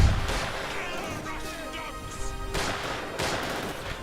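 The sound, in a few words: gunfire and artillery in video game Company of Heroes 2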